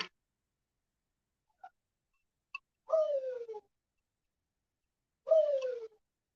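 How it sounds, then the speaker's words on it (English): A pet bird indoors gives two short descending cooing calls a few seconds apart, fairly close and clear against near silence, with a few tiny clicks between them. "he's a bird"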